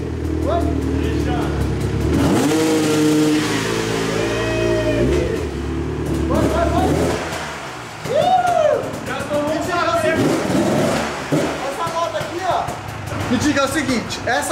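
A Yamaha XJ6 motorcycle with a straight-pipe exhaust revs hard and loud nearby in several rising bursts, dropping back between them, while people talk over and around it.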